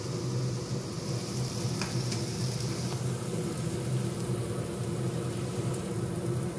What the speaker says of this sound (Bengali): আর এই পাশে আলুটা ভাজতে দিয়ে দিলাম